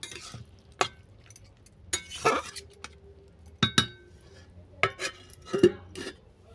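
A spoon stirs fish curry made with small puti fish and lentils in a metal pot, giving sharp clinks and scrapes against the pot in a scattered series of close, fairly loud knocks, with no talking.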